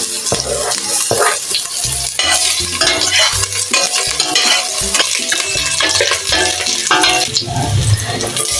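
Ginger sizzles in hot cooking oil for chicken tinola, a bright steady frying hiss broken by repeated stirring scrapes and clinks of a utensil against the pan, close and loud with no talking.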